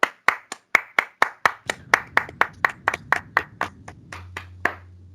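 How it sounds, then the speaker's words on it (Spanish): At the close of a political opinion panel, a few hands clap in a slow, steady rhythm. About twenty distinct, crisp claps sound near and evenly spaced, over a low hum that enters partway through. "Un aplauso para todos."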